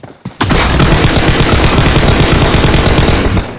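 Loud, sustained automatic gunfire in the mobile battle-royale game PUBG Mobile, a rapid continuous burst lasting about three seconds after a brief initial shot, close and dominant with no talk.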